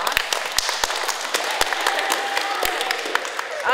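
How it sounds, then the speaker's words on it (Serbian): Children in grades five to eight applaud together at a library reading event, a busy patter of claps with sharp louder smacks scattered throughout, steady for several seconds, with some voices in the room. "Aplauz za nas."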